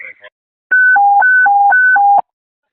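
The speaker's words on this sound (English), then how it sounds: "Can we get wobble tones for a par?" Fire dispatch radio wobble tones sound for a personnel accountability check at a fourth-alarm historic mansion fire: loud alternating high and low beeps, about three cycles over one and a half seconds, after a brief radio burst.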